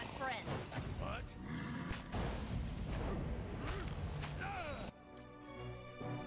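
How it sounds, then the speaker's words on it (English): Explosions and combat impacts in the fantasy role-playing game Pillars of Eternity, a dense run of crashes, whooshes and thuds packed together, loud and busy, settling into quieter music near the end. "That's a lot of explosions."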